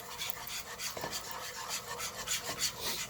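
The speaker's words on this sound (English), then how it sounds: "whisk away to get these lumps and bumps out" A whisk scrapes and swishes rapidly through an almond milk roux in a pot, producing close, rhythmic scratchy strokes in quick succession.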